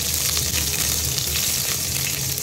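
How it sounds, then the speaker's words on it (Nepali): Green chillies fry in a little hot oil in a pan, giving a continuous, close, hissing sizzle with a faint crackle and no voices. "भाँडामा तेल कम्ती तेल खराउने अनि खोर्सानी हाल्ने"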